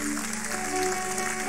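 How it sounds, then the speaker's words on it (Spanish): A church congregation applauding the Lord during a Spanish-language service at Iglesia Nueva Jerusalén, steady dense clapping blended with sustained music throughout. "Yo le voy a darle un fuerte aplauso al Señor"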